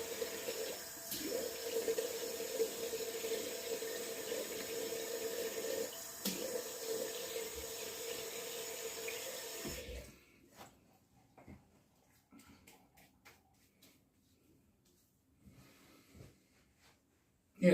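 Cold water runs steadily from a tap for about ten seconds, a continuous splashing hiss with a few clunks, then stops, leaving quiet room sounds and scattered small knocks.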